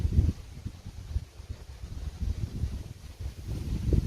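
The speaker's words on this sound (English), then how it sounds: "Whoa, look at the wind." Gusty wind buffets the microphone outdoors on a disc golf course, a low rumbling roar that swells and fades in uneven surges over a few seconds, with no talking.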